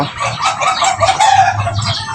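Several egg-laying hens cluck and cackle together, loud and close, in a busy overlapping chorus with no one speaking.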